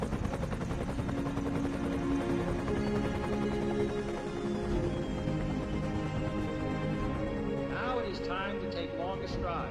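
A US military helicopter hovers during an Apollo capsule recovery at sea, its rotor chop a steady throbbing drone under a continuous narrating voice, with brief warbling tones near the end.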